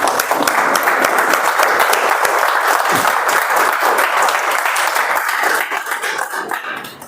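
A standing audience applauding together as an ovation, dense continuous clapping at full volume that holds steady, then begins to thin out and fade near the end.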